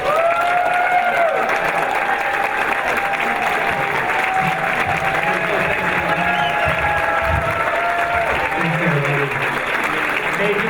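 A large dinner crowd breaks into loud, sustained applause to welcome Governor Bob Ferguson, steady clapping filling the room for several seconds with some voices mixed in.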